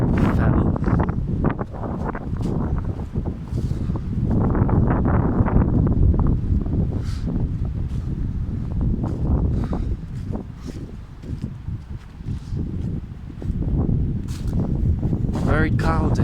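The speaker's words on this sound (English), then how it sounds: "It's always windy in that field." Very strong wind sweeps across an open field during a windstorm, roaring and buffeting the microphone in a loud, unbroken rush that surges and eases without a pause.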